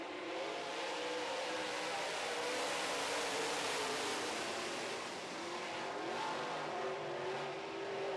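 Five modified race cars on a short oval track for a heat race, a continuous distant roar of engines rising and falling as they circle, no voices over it.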